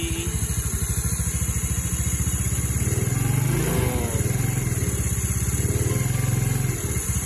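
Yamaha Mio Nouvo scooter with a noisy one-way starter clutch, idling steadily with a close, continuous rattling mechanical clatter over the engine throb, briefly rising with a light throttle blip before settling back.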